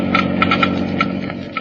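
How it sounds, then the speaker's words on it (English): A Geiger counter clicks off a slow wear-rate reading of new engine oil, sharp evenly spaced ticks sounding roughly every fifth of a second over a steady low engine-like drone in a vintage radio broadcast. "let's listen to the Geiger counter slowly click off the low wear rate of new"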